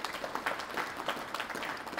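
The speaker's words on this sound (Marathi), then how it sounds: "यांचं पुन्हा एकदा आपण टाळ्या वाजून अभिनंदन करावं" A crowd applauds at a college International Yoga Day function in Sangamner, a moderate, steady patter of many hands clapping at some distance, with no single claps standing out.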